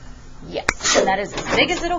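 A single short, sharp sneeze bursts out briefly amid a person talking in a quiet room, followed by continued speech.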